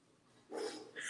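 A dog called Uncle Henry lets out a short bark, then a second quick one, close and fairly soft, over quiet room noise.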